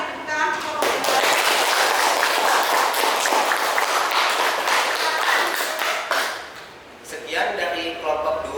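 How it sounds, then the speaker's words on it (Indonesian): A classroom claps for a student group after its ecosystem presentation, a dense burst of hand claps that fades midway, with voices speaking over the end. "Beri tepuk tangan untuk kelompok 2."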